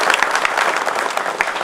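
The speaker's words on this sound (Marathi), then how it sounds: "त्यांच्यासाठी जोरदार तुम्ही टाळ्या वाजवा" An audience at a political speech rally claps loudly and steadily, a dense wash of hand claps that runs the whole short stretch without pause.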